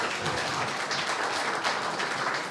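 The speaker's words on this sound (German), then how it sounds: "Danke, Beifall." Audience applause at a university talk in Gera, a steady broadband patter of many hands clapping that holds evenly throughout, fairly distant and moderately loud, with no voices over it.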